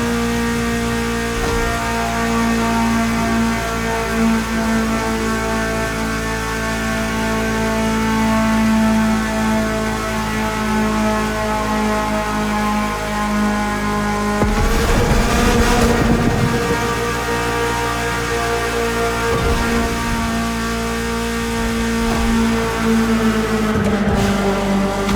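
A BMW E30 driving the roads of Maui in the racing game The Crew Motorfest, its engine a steady droning hum that swells into a brief rev and burst of noise midway, alone without talk.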